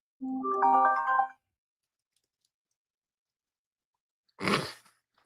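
A mobile phone ringtone cuts into a livestream as a short melodic burst lasting about a second. Silence follows, then a brief noisy thump near the end, with no talking.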